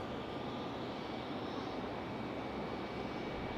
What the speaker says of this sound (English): Hopefully you guys enjoyed that departure of Air France